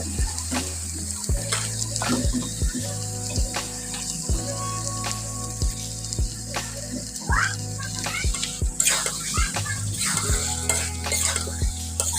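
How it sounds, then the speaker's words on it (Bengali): Spiced liver bhuna fries in a pan while being stirred, a continuous sizzle broken by frequent scraping and knocking of the spoon against the metal, plus a low steady hum beneath, close up with no talk. "আজকে হচ্ছে কলিজা ভুনা করছি।"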